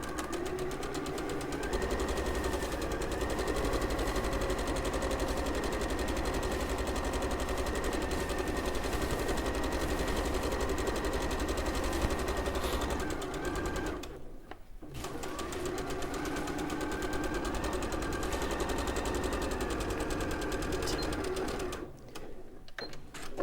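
A sewing machine straight-stitches the side seams of a jersey skirt in a long, steady, close whirring run, pausing briefly near the middle and again near the end before resuming.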